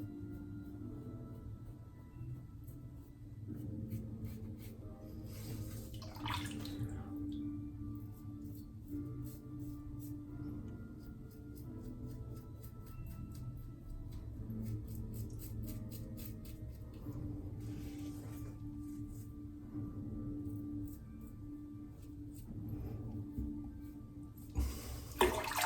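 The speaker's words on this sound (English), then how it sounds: "Rinse that off." Tap water running steadily while something is rinsed off, a continuous soft rushing flow with brief splashy bursts, moderately quiet and without talk.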